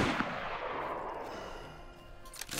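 A single loud gunshot cracks in DayZ on the Livonia map and then rings out in a decaying tail, followed by a softer thump near the end.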